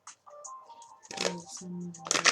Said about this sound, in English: Just when you think you know how to shuffle.